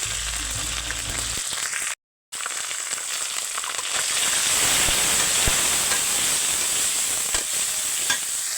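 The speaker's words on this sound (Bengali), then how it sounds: "রসুন বাতা আর আদা বাতা দিয়ে দিচ্ছে" Onions fried red are sizzling loudly in hot oil in a pan as garlic and ginger paste goes in, a steady close hiss with stirring scrapes and a brief dropout early on.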